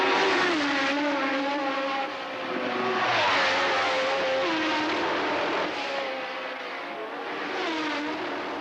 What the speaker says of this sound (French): Les deux Tyrrell roue dans roue ou presque, un spectacle habituel lors des journées d'essai.